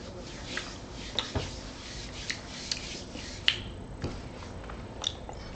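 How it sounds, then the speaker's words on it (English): Hands rubbing over clothes and body to wipe off sauce, soft quiet brushing with a series of small sharp snaps and rasps spaced about half a second apart, close and faint. "I'm trying to rub my body and clean it off if I did."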